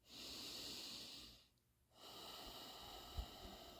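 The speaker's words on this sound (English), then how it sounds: "Okay, so take a deep breath." A deep breath during a meditation exercise: a long, hissing inhale, a short pause, then a steady airy exhale, close and quiet, with no talking.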